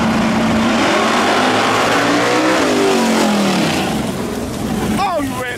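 Race cars launch at the start of a drag race, a loud, sustained engine roar with rising revs and a whining pass near the end. Crowd noise and voices blend into the din.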